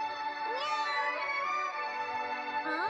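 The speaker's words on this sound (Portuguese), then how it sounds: "Ah, é uma gatinha que eu acabei de achar." A kitten meowing, two drawn-out, tonal meows, the first long and wavering, the second short and rising, clear and close with little else around them.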